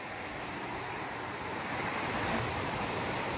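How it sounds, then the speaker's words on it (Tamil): Steady rain falling in a forest, a dense, even hiss that stays constant and fairly soft throughout, with no voices. "நல்ல மழை, செம கூலிங்காக இருக்குது"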